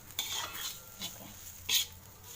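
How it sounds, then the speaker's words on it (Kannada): Freshly roasted and ground masala powder being mixed in a pan, with three light metallic scrapes and clinks of a spoon against the vessel, close and fairly quiet, separated by brief pauses, no voices. "ಇದನ್ನು ಚೆನ್ನಾಗಿ ಮಿಕ್ಸ್ ಮಾಡ್ಕೋಬೇಕು"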